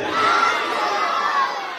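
A large crowd at an Urs Khwaja religious gathering roars back in unison to a shouted Islamic slogan, a loud sustained mass of voices filling about two seconds.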